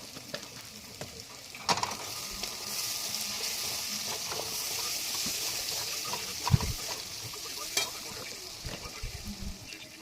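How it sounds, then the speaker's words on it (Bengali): A spice paste of onion, ginger, garlic and turmeric sizzles quietly in a pan, with occasional scrapes and knocks as it is stirred. "পেঁয়াজ, আদা, রসুন সব কিছু দিয়ে মশলাটা কষিয়ে নেবে আগে একটু মোটামুটি"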